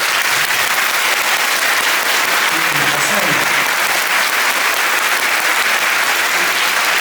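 Theatre concert audience applauding the orchestra conductor, dense sustained clapping filling the hall at full strength throughout, with a faint voice briefly audible beneath it.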